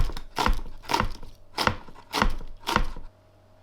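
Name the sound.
knife chopping spring onions into sections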